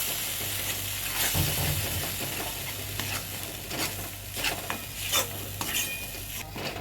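Tomato and cashew paste fried in a pan with green chilli and ginger paste, stirred with a spoon that scrapes and taps the metal over a steady close sizzle.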